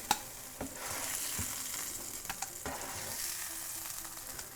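Sausages sizzle steadily in a frying pan, a continuous close crackle and hiss with a few sharper pops and spatters along the way.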